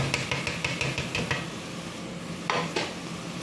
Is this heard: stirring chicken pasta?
yes